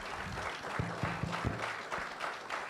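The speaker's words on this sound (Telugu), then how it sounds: "ఆవిడకి అందరూ ఒకసారి చప్పట్లు కొట్టి" An audience at a stage event applauding a guest, a steady wash of clapping throughout with a few brief tonal sounds underneath.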